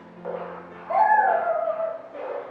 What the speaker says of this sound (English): Sorry, I have neighbors' dogs who are barking.